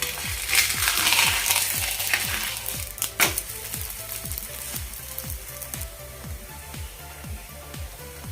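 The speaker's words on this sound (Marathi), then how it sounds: "दोन्ही साईडने हे व्यवस्थित आपण असं भाजून घेऊया" Sindhi masala koki flatbread roasts on a hot pan with a soft, steady sizzle and crackle, close and fairly quiet, with a brief clatter midway; no one talks.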